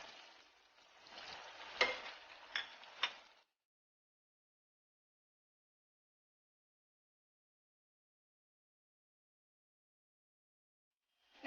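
Chicken cutlets sizzle and crackle in hot oil in a frying pan for about three seconds, with a few sharp pops, then the sound cuts to silence.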